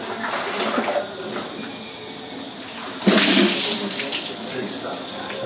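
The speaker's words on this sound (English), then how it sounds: "Ready to take a shower here" Water pouring during a shower on a motorcycle trip in Cambodia, a continuous hissing splash that surges louder partway through, with voices talking over it.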